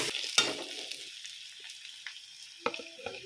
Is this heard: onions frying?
yes